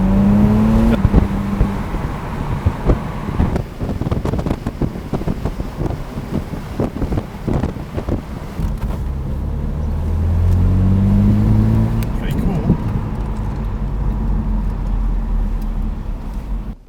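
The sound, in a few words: 2.5 litre petrol hard-top car driving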